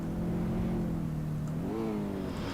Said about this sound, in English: So we can still hear the Supra